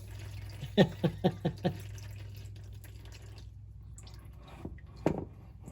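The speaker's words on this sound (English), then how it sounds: "So I'm going to try to just pour it all over my arm." Transmission fluid pours and drips from the transmission pan of a Jeep Wrangler JK during a fluid and filter change, giving a quick run of five wet splats followed by quieter trickling and one more splash near the end.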